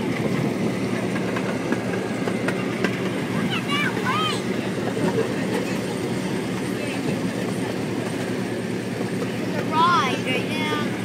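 A small park ride train runs steadily with a continuous rolling rumble and faint rail clatter, heard from on board, with a child's and an adult's voices talking over it at intervals.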